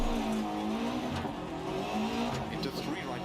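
A car driving in a rally video game with the co-driver calling pace notes, heard as a continuous engine drone with tire and gravel noise, loud and steady throughout.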